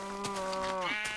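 A sheep in Minecraft gives one clear, wavering bleat that falls in pitch near its end, close and alone.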